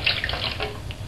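Water runs steadily from a tap into a container during a tabletop electro-hydrodynamic drive experiment, a short continuous splashing trickle with a low hum beneath.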